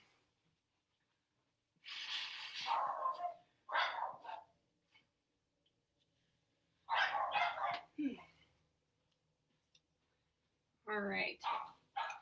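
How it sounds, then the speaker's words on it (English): Dogs bark in the background of a seated exercise class, with several short bursts of barking spread across the stretch and a person talking in between. "There goes the dogs."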